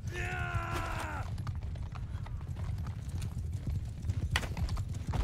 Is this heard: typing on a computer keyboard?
no